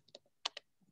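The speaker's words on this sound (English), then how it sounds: "I'm typing the name of the" Clicking keystrokes on a computer keyboard, a handful of quick taps in short bursts, fairly close and clear with no talk over them.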